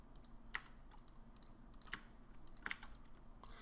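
Steady computer keyboard typing, a fast run of light clicks with a few sharper key strikes, close but fairly quiet.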